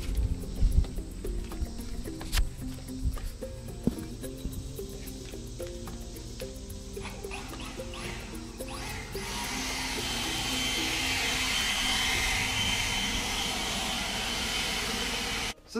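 A Kobalt 24V brushless leaf blower, part of a 2-in-1 trimmer and blower kit, runs close by with a steady, loud broadband rush of air that strengthens and holds through the second half after lighter clattering earlier.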